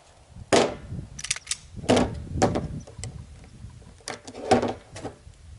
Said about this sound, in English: Now it's extract, store, rack, mag in, rack, fire.